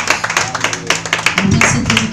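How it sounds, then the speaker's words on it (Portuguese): A church congregation in a Portuguese-language service claps in praise of Jesus, a loud, close burst of clapping in a quick, fairly regular rhythm, joined toward the end by a low hum of crowd voices. "Aplauda o Senhor Jesus"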